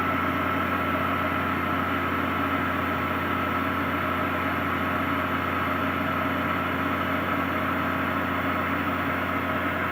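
A JR Ultra Touch 3 Quantum blender runs at low speed, its deep, bassy motor hum overlaid by a steadier higher-pitched fan whir, continuous and even throughout, close and moderately quiet with no talking.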